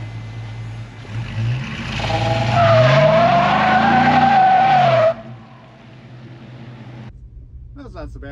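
An LS-swapped Ford F150 with only one driving wheel and no brakes spins a tire from a standstill, giving a loud rising squeal of several seconds over engine rumble before it cuts off, then quieter idling.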